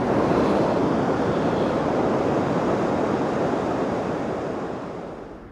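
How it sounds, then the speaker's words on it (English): Waves rolling in on an incoming tide at Pipe Beach in Porthcawl, South Wales: a steady, broad wash of surf, fairly loud and close, with some wind buffeting, fading slightly at the end. "the tide's coming in, and I'm going to get wet"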